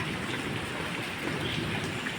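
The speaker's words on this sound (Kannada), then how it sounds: "ಜೋರು ಮಳೆ" Heavy rain falls in a dense, unbroken hiss of drops striking surfaces nearby, steady and loud throughout with no voices.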